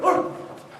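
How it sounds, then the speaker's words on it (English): A dog barks once loudly and close in a school drama production of Thumbelina, the sound tapering off over a short moment with no talk. "what are you barking about?"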